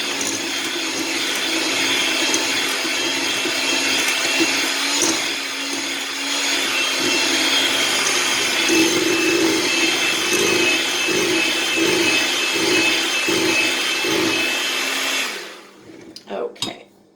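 An electric mixer creams butter and sugar for cherry bars, a steady, loud motor whir that holds for about fifteen seconds and then cuts off, leaving faint clatter.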